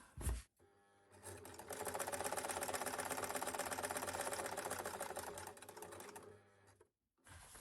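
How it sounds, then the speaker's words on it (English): A sewing machine top-stitches around the edges of a scrap-fabric purse, running steadily for about five seconds with a fast, even whir before stopping, with no talk. "we're going to top stitch all the way around the edges"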